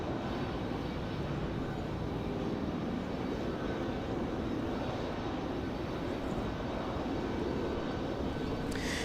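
A jet airliner powers up for departure at Raleigh-Durham International Airport at night, a steady broad engine roar holding loud and continuous throughout, with no voices heard.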